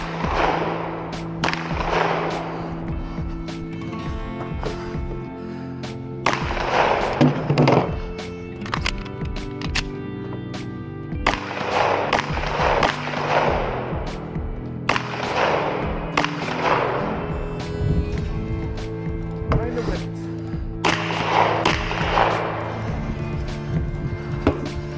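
Pistol shots on an IDPA shooting stage, fired on the move outdoors: several sharp, loud bangs in small bursts spread through the stretch, over steady background noise.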